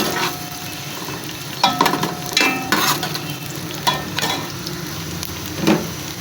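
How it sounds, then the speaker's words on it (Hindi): Chopped onion being lightly sautéed and stirred in a pan for aloo methi, a steady close sizzle broken by repeated scraping strokes of a spoon against the pan, with no talk. "इसको हल्का सा सोते करेंगे, इसको ब्राउन नहीं करेंगे।"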